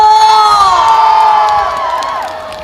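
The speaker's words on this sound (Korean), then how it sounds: "그러면 윤봉길 의사를 만나러 오시면 박수와 함성." An outdoor festival audience at the Yun Bong-gil peace festival roars and cheers loudly, with shrill shouts and whoops that tail off slightly toward the end.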